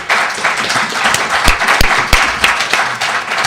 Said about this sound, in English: I'd like to ask you to give a round of applause to our panelists